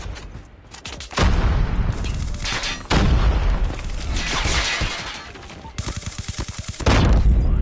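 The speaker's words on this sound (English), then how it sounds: "There's two of them shooting at me." Gunfire in the Call of Duty Mobile video game: dense bursts of rapid automatic shots and booms fill most of the stretch, loud and close, with brief lulls between volleys.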